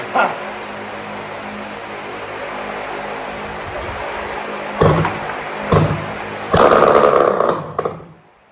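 A Yamaha Banshee ATV two-stroke engine is cranked for a test fire, a steady mechanical churning followed by a few sharp pops and a brief loud burst close by before cutting off.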